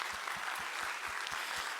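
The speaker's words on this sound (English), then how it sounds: "A round of applause for Dr. Gee." Dense, steady audience applause fills a town hall meeting on Medicaid, a continuous wash of many hands clapping with no voices over it.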